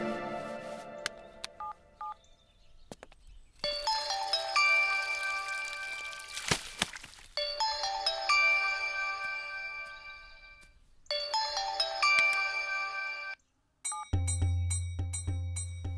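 A phone keypad beeps out a quick string of dialing tones, then long repeated bursts of electronic ringing follow, separated by short pauses, with a final choppier tone pattern at the end; no one speaks.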